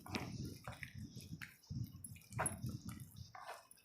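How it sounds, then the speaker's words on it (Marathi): Water being added and mixed into gram flour batter for alu vadi, giving wet squishing and sloshing sounds in uneven bursts, close by and fairly soft. "तर जसं पाणी लागेल तसं मी टाकणार आहे"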